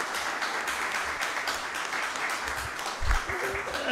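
A modest crowd at a public talk in Acerra claps in a steady, fairly distant patter, with soft low thumps and a brief voice breaking through near the end.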